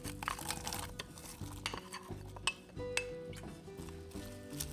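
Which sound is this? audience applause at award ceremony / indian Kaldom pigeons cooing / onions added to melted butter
onions added to melted butter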